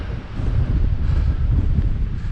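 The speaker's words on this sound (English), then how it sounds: "Nice sunny day, just a pity it's a bit too windy" Wind buffets the microphone in a steady, heavy low rumble with gusty fluctuations throughout, and no voices, outdoors on a sunny day along the Heart of Wales Line Trail between Bucknell and Knighton.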